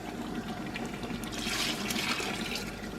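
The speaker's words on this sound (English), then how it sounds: "And I think here I can now pour in my meat stock." Meat stock poured into a big soup pot at home, a steady liquid splash and trickle running for the whole stretch and swelling louder toward the middle.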